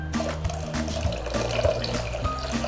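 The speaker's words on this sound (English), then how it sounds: "So put our water in there." One cup of water is poured into a pan of sweet and sour sauce concentrate. The pour gives a continuous liquid splash and gurgle, close and moderately loud, over a low background hum.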